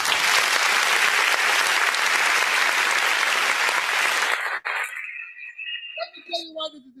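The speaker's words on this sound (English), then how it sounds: "A round of applause for His Excellency." Audience at a youth dialogue event with Peter Obi breaks into loud, sustained applause that fills most of the clip, then cuts off abruptly, leaving faint voices and room sounds.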